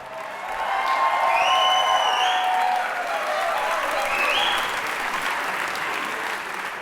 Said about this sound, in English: My hands are exhausted from clapping.